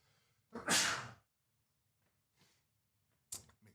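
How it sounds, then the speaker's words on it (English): A single sharp sneeze bursts out close to the microphone, followed by quiet breaths and a short rustle in an otherwise silent room. "I have a sneeze coming on."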